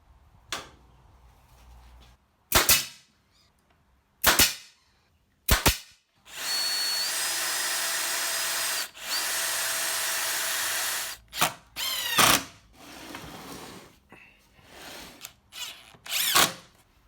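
A 3mm MDF guard for a homemade disc sander is fixed in place, with several sharp separate hammer-like nailing knocks followed by a loud, sustained whirring of a power screwdriver, then more short bursts and knocks.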